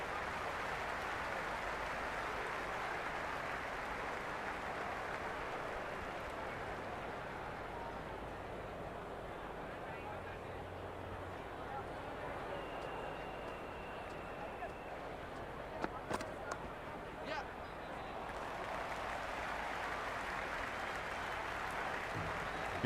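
Cricket crowd at an India v England T20 World Cup semi-final, a steady broad roar of clapping and cheering throughout, with a few sharp louder claps near the end.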